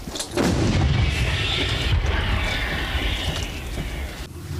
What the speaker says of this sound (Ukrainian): Пішов постріл касетою.